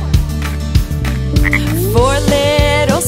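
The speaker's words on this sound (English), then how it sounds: "Four little speckled frogs sat on a speckled log" Frog croaking in a children's nursery rhyme about speckled frogs, with repeated croaks over a steady musical backing and sung melody, loud and close throughout.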